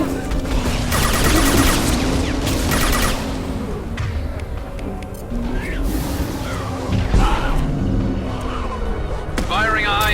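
Gunfire in the video game Mass Effect 2 Legendary Edition, loud bursts of shots mixed with crashes and other battle effects, with voices speaking amid the action.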